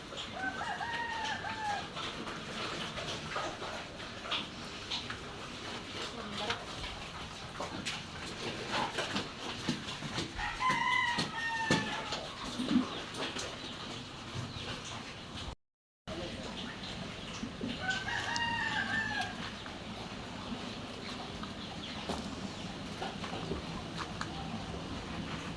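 Farmyard chickens at feeding time, with hens clucking and a rooster crowing a few times at a moderate distance, mixed with an ongoing background murmur and people talking at times.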